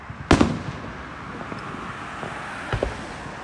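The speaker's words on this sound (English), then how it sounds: "Did you hear the booming sound? Yeah, made a booming sound. See the fireworks?" Independence Day fireworks boom at a distance outdoors, one big blast early and a second smaller one later, over a steady hum of background traffic.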